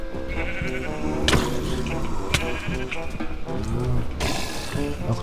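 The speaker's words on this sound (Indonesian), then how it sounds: "Domba-domba tersesat, ayo." Sheep bleating in Minecraft on a hardcore-mode survival map, several overlapping bleats rising from a busy mix of game music and ambient sounds, with one sharp click-like hit and a louder burst near the end.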